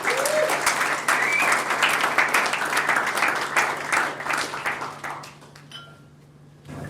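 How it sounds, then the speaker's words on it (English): A crowd at a sports awards night breaks into sustained, dense applause that holds steady for several seconds and then thins out and fades toward the end. "Give him a big round of applause."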